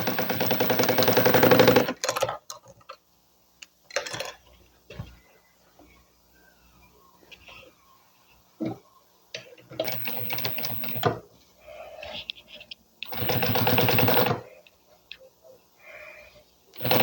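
A sewing machine stitches the lining of a handbag in short bursts, a loud run at the start and several shorter runs later, separated by quiet pauses and handling noises.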